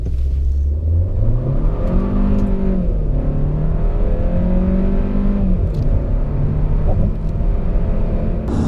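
Steady engine hum and road rumble from inside a moving new Kia K5 1.6 turbo, the engine tone rising and falling gently as it drives.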